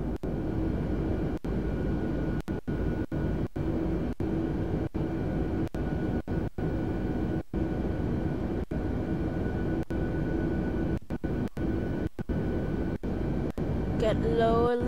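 Steady airplane engine drone inside Microsoft Flight Simulator during a landing approach to a runway, continuous and fairly loud, broken by brief sharp cutouts and clicks, with a voice talking over it.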